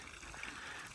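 Water from the garden fountain in front of the Rufford Abbey Orangery, a steady close trickle and splash that runs without a break and carries no voices.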